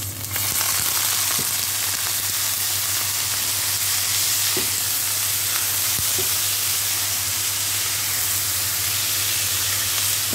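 Brown rice frying in a hot pan, a steady loud sizzle and hiss throughout with a few faint stirring clicks, close up and without talking.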